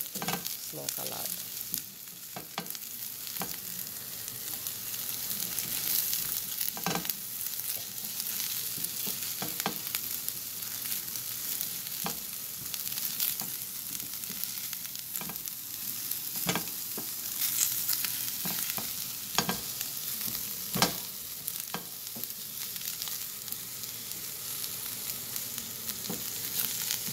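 Eggplant frying in oil in a pan over a lowered flame for sweet and sour baingan, a steady dense sizzle throughout with occasional sharper pops and crackles, close and continuous with no talking.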